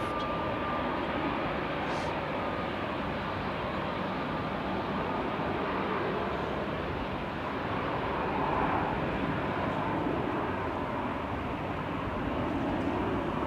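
A KLM airliner in SkyTeam livery taxis out at Manchester Airport toward runway 05 left, heard as a steady, broad jet roar and whine at a distance, continuous and unbroken throughout.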